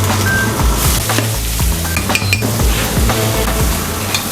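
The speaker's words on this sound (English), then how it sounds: "We're going to make the saute vegetable for the meat." Vegetables sautéed in a pan in a busy restaurant kitchen: loud continuous sizzling with repeated metallic scrapes and clinks of utensils against the pan, no talking.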